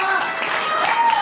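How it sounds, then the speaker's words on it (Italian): Applause from an audience for a chanteuse performing at a show, a brief dense patter of clapping with some voices mixed in. "Un applauso a Lydia."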